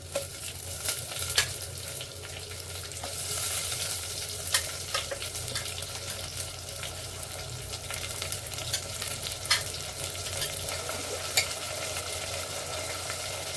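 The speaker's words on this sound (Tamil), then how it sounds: "இப்போ வந்து நம்ம அரைச்சி வச்சதை சேர்த்துப்போம்" Ground paste tipped into a hot frying pan and stirred, a steady close sizzle with scattered scraping clicks from the spoon running throughout.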